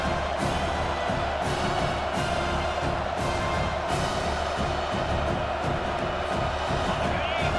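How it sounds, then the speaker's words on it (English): Home crowd noise in EA Sports College Football 25 as the defense tries to get off the field on third down, a steady roar of stadium cheering that swells in pulses and stays loud under a broadcast commentator. "Here comes this home crowd as the defense tries to get off the field on 3rd down."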